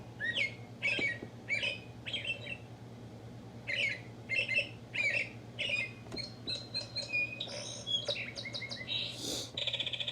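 A thrift-store clock plays recorded bird calls on the hour: a series of short, tinny chirps, squawks and trills in separate bursts, over a low steady electrical hum.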